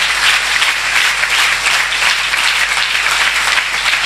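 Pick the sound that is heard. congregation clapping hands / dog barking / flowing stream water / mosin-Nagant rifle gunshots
congregation clapping hands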